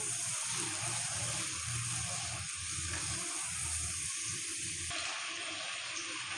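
Chicken leg pieces fry in a pan for dagi biryani, a steady close hiss and sizzle with soft low stirring thumps underneath.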